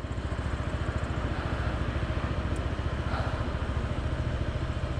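A 2021 Honda PCX scooter engine hums steadily and close while riding in the evening, its low pulsing drone continuous throughout with faint traffic noise behind.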